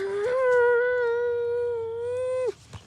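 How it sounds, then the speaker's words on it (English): A dog near a tiny house lets out one long, loud, sustained howl that holds steady and then cuts off sharply, followed by a faint short whimper. "I'm trying to talk and he keeps barking."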